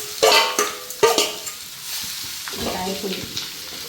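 Mango pickle mix dropped into hot oil with dried chillies and curry leaves, giving a burst of crackling sizzle and a couple of stirring clanks before settling into softer frying, with no talking.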